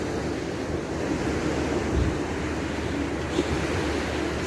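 Ocean waves roll onto Lumley Beach in Freetown, Sierra Leone, a steady broad wash of surf mixed with wind noise on the microphone, constant throughout.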